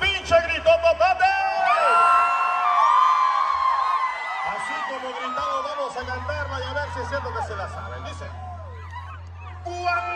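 A concert crowd at a show in Pico Rivera, California shouts, whoops and cheers loudly, a dense wash of voices with scattered cries and whistles throughout.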